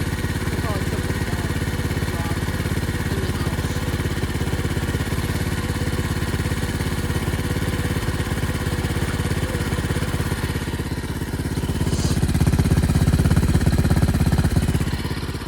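A pit bike engine runs steadily and close, a loud continuous buzzing drone that swells slightly toward the end, with voices talking faintly underneath.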